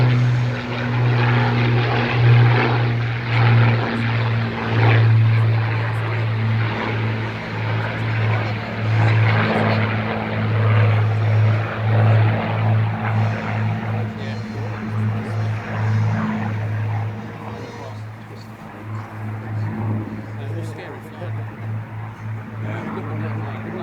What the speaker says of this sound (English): This is the last pass of the Weston Park International Model Show from the Spitfire and the Hurricane.